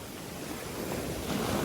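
Continuous rush of rough sea waves and wind, a broad steady roar swelling slightly toward the end.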